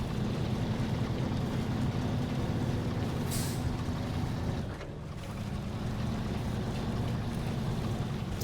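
A SnowRunner video game truck engine ticking over as it runs low on fuel, a steady low drone with a brief hiss near the middle and a short dip in the engine note shortly after, no voices.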